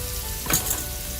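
Chicken meatballs frying in a pan give a steady, quiet sizzle, with a brief louder crackle or stir near the middle of the short stretch.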